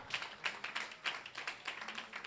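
Crowd clapping at a motivational talk, a soft, fairly distant patter of overlapping handclaps with an uneven pulse, continuing steadily without voices over it.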